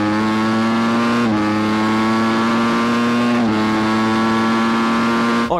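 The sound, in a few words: Ducati Panigale V4S motorcycle accelerating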